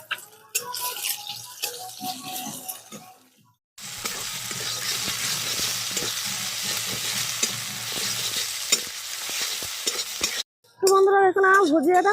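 Two eggs scrambled as bhujia in a little white oil in a pan: a few scraping stirs, then a steady close sizzle with spoon scrapes that stops abruptly near the end before a short louder burst.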